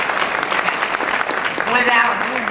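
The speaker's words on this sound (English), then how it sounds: "we want to give them a round of applause as well" A meeting audience in a hotel applauds, a steady wash of clapping with voices talking over it.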